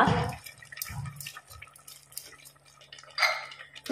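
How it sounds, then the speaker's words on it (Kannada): Water from rinsing a mixer jar is poured onto thick chicken masala in a pot, coming as short splashes, trickles and drips with light clinks of the container, close and fairly quiet. "ಈಗ ಇದಕ್ಕೆ ಮಿಕ್ಸಿ ತೊಳೆದಂತ 1/4 ಕಪ್ ಅಥವಾ ಒಂದು ಅರ್ಧ ಕಪ್ಪಷ್ಟು ನೀರು ಸೇರಿಸುವ."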